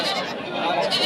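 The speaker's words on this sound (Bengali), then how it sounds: "এটা ন্যাজ লড়াচ্ছে হয়তো বা ডাকছে ছাগলটা" A Haryana-breed goat bleats in a drawn-out, wavering cry, close and loud, filling the short moment.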